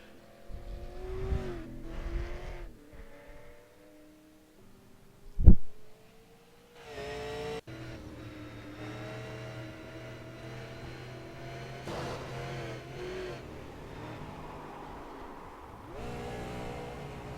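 A stock car in a USRC Jonathan "Taylor" Thomas Series race backs up and then accelerates away, its engine roaring steadily with a sharp rev burst partway through, the drone continuing on track with no voices.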